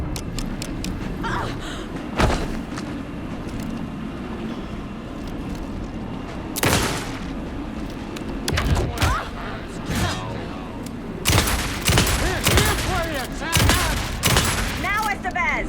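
Gunfire in Alan Wake 2: sharp broadband shots ring out at irregular moments, a lone burst early, then tighter clusters and rapid volleys later over a dense, rumbling game soundscape with distant voices.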